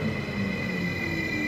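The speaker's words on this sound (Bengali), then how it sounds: "এই যে আমার ট্রেন চলে আসছে" A train pulls into Kannelmäki station in Helsinki with a steady rumbling roll and a faint high wheel whine, loud and close, with no voices.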